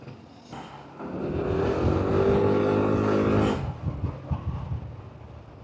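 A Kymco KRV200 scooter's exhaust rises into a loud, steady, nearby drone for a couple of seconds as the throttle opens, then drops back to a lumpy idle.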